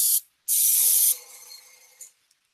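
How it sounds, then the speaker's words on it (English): Short bursts of an aerosol spray can coating a model: a quick hiss, a pause, then a longer forceful spray trailing into faint rattling and a final brief puff. "I'm just kind of like haphazardly spraying, but I'm trying to spray towards corners"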